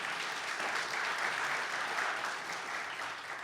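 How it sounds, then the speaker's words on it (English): Audience applause at a live talk on love and disability: a steady, dense wash of many hands clapping at once, loud and unbroken throughout, with no distinct individual claps standing out. "That round of applause is for all of you"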